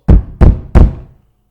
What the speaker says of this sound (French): C'était le facteur qui frappait à sa porte.